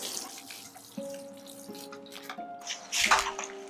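Water trickles and splashes softly from a pour onto freshly sown vegetable and herb seeds, quiet at first and then gushing louder near the end.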